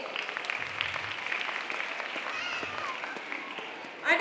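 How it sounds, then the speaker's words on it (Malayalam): Audience clapping at a school annual day celebration at Holy Angels Convent LPS, a steady wash of applause sustained for about four seconds, moderately loud and slightly distant, with a louder burst right at the end. "ഒരു കൈയടി."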